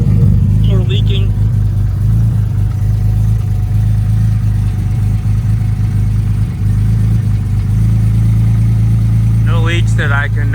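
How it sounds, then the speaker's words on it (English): The turbocharged Honda NSX engine runs at a steady low idle with an even rumble, close and loud, while brief bits of speech come through near the start and end. "All right, we got the car running."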